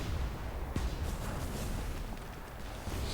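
Airship cannons fire in a video game battle, with muffled booming blasts blending into a dense, continuous rumble.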